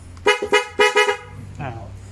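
Four sharp, loud blasts from an aftermarket horn fitted to a Honda ADV 160 scooter honk in quick pairs up close, followed by a softer, shorter beep.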